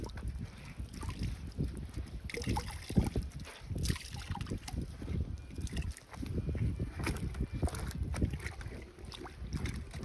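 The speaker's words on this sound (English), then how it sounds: "Now I'm going to drain the water from the pants and put it in some water to rinse" Dyed pants being rinsed in cold water, with close, continuous sloshing and trickling as the fabric is moved through the basin.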